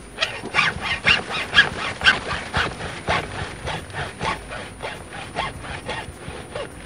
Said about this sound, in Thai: เลื่อยขึ้นไปแบบนี้นะครับ